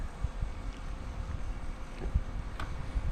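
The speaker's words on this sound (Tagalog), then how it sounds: "Malakas ang hangin." Strong wind buffets the microphone outdoors, a steady low rumble with irregular gusty thumps throughout, loud and close with no talking.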